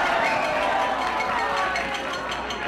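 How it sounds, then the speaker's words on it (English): A crowd roars and cheers steadily at a football match during the Sir John Jackson Cup, filling the whole stretch with loud, continuous, broadband noise and no breaks. "Might be the loudest cheer I've heard for a first half quarter clear in a good long while."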